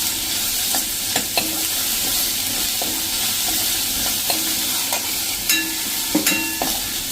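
Green chilli and ginger paste frying in a hot tempering in a pan, a steady close sizzle with occasional spoon stirring clinks and scrapes.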